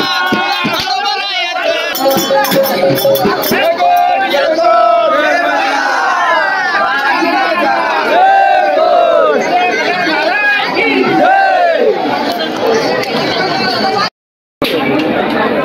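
Dense crowd at a village temple fair, a loud continuous roar of many voices chattering and shouting close by, sustained throughout before a brief dropout near the end.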